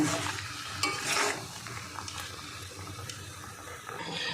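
Mango pickle being stirred in a pan with sugar syrup as it cooks down, steady scraping and soft bubbling close by, with a few brighter clinks early on and no talking.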